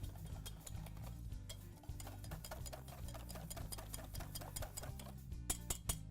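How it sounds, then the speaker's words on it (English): Steady, rapid clicking of a whisk beating crepe batter in a bowl, a quick even rhythm running throughout over a low background of music. "keep whisking until you see that there is hardly no lumps"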